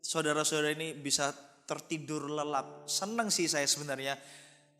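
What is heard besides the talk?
None of the usual background noises is heard.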